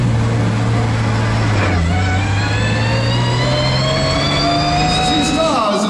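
A Ginetta G55 race car engine revs loudly and close, its pitch climbing steadily with a brief dip, a continuous mechanical roar throughout.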